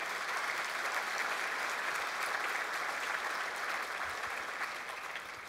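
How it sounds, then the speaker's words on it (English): Sustained applause from a luncheon audience at the 2017 Bi-State annual luncheon, a steady dense clapping that holds throughout and tapers slightly near the end, with no speech over it. "She deserves a big round of applause for what she's doing with this."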